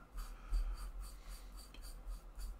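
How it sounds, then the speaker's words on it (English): Pigment being rubbed up and down on a painting surface to blend it, a soft rhythmic scratchy rubbing in repeated strokes, close and quiet with no talk. "And the more I rub up and down,"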